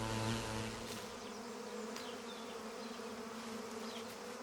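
A swarm of honeybees buzzes steadily and densely up close, a continuous droning hum with no voices over it.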